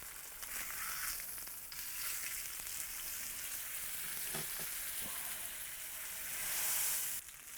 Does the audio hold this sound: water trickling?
no